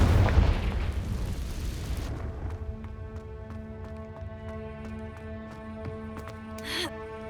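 A fiery blasting spell explosion in the Hogwarts Legacy video game: a loud burst at the start that decays into a ringing, tonal magical tail with crackling, with a brief whoosh near the end.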